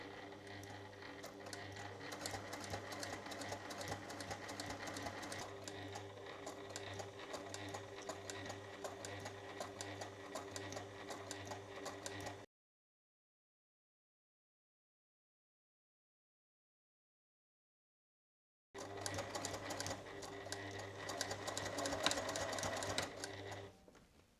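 Sewing machine stitching ribbon onto a jacket: a steady, rapid mechanical whirr running unbroken, cut off by a stretch of silence, then resuming and rising slightly before stopping.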